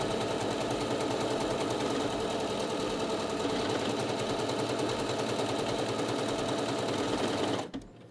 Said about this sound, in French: la boutonnière va se coudre automatiquement à la bonne taille, et s'arrêter lorsqu'elle a terminé le travail